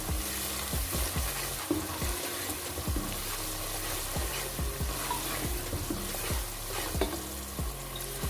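Daal mash masala with crushed red chili sizzles and fries in a pan while being stirred, steady crackling hiss with repeated soft scraping strokes of the spoon, close and moderately quiet, no voices.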